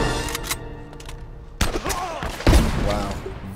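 Gunfire in the video game Uncharted: Drake's Fortune, with several sharp shots and thumps among a busy, noisy game soundscape.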